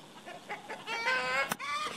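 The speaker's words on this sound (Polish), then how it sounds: "Kury jaki podnoszą larum." Hens and a rooster raise an alarm at a stork perched nearby in Dębice, with a few soft clucks building into loud, rapid squawking calls close to the microphone.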